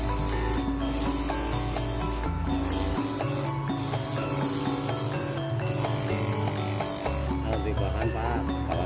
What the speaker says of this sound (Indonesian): lanjut pakai amplas yang lebih halus